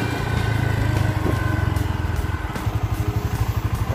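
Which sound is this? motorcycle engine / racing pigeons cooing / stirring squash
motorcycle engine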